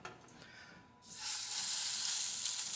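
Halibut laid into a lightly oiled non-stick pan bursts into loud, steady sizzling after a second of quiet, the hiss holding strong and even to the end.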